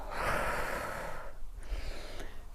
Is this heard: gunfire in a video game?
no